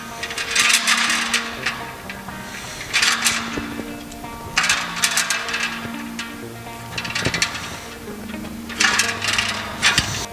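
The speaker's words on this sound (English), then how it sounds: "So we'll go ahead and strip them and get them ready to attach." Black and white low-voltage wires being stripped for a post cap LED light, with bursts of scraping and snipping, a few light clicks, and irregular handling noise between the bursts.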